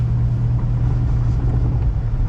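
A Honda EM2 widebody car spinning in the snow, its engine a loud, steady low rumble that holds throughout with slight revving fluctuations.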